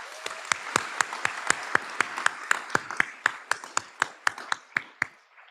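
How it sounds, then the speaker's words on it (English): A convocation audience gives a round of applause, with crowd clapping under a series of sharp, evenly spaced loud claps close to the mic that keep a steady beat and then die away. "I'd like to give him a round of applause."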